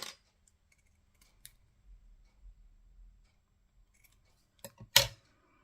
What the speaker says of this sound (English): I'll just cut that out a little bit more